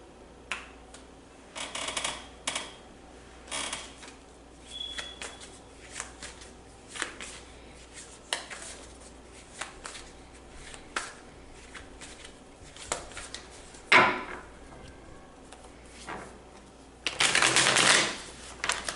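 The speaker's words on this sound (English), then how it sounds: "let's pull some more cards here" Tarot cards are shuffled and drawn, with soft repeated riffles, taps and flicks through most of the stretch and a louder, longer shuffling burst near the end, close and quiet in a calm room.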